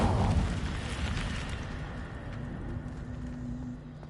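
The Incendio fire spell in Hogwarts Legacy bursts out with a loud, rumbling whoosh of flame at the start, then fades into a long, dull roar that slowly decays.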